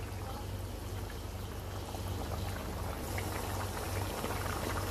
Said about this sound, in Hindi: अब हम इसको थोड़ा सा भून लेते हैं। आपने फ्लेम को हाई रखना है।